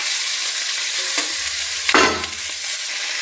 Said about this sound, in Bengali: চাল কুমড়ো কটা ঢেলে দেবো